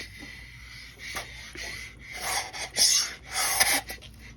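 A hand covers a cylinder on a 1994–2001 Acura Integra GSR B18C1 engine bottom end while the crank is spun by hand, producing faint, close rubbing suction and hissing air puffs that come in uneven surges.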